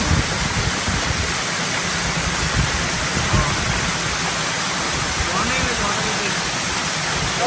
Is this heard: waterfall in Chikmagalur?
yes